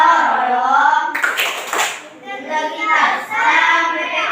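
Students chant together in the tepuk karakter classroom routine, their voices joined by a burst of rhythmic hand clapping in the middle before the chanting carries on.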